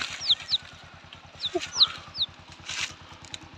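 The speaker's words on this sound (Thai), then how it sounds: "แม่ไก่ป่าครับ นะครับ มีหลายตัวเลยครับ" Wild junglefowl hens cluck and give short chirping calls outdoors, several birds close by, over a steady low mechanical hum.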